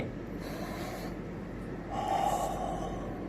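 Slow breathing during a breathing exercise: a long airy inhale followed by a fuller, louder exhale, close and steady over a dense background hiss, with no talking.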